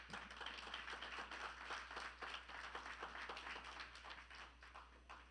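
Church congregation applauding, a dense, steady patter of many hands clapping together, fairly faint and distant, with a low hum underneath and no clear talk.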